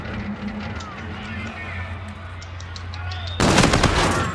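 Gunfire in the multiplayer shooter Call of Duty: Infinite Warfare during a Domination match, with a loud sustained burst of shots near the end that rises above a steady background of game ambience.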